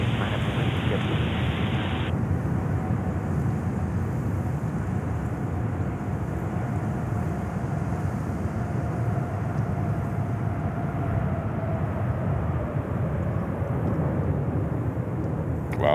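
An airliner at JFK airport roars with thrust reversers deployed on the runway, a loud, continuous broadband rush that holds steady throughout, with a brief higher hiss at the start.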